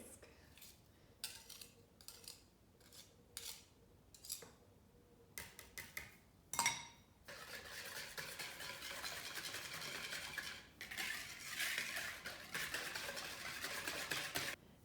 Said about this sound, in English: I think now is the time to change to a whisk.